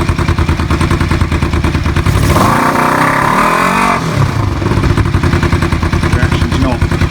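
A bobber motorcycle engine runs steadily with a throttle blip and rising rev swell in the middle, loud and close, under a constant mechanical rumble.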